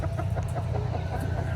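Chickens cluck in quick, overlapping bursts at a rainy-day animal swap, over a constant low background hum, close and fairly loud.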